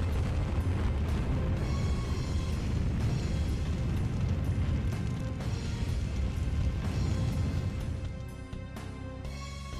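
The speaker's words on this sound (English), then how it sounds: "firing its mega cannons." Booming cannon fire from the Giant of Babil in the Final Fantasy 4 video game, a dense, continuous rumble of loud blasts and crashes that thins out slightly near the end.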